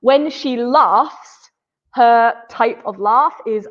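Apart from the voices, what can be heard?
None of the usual background noises is heard.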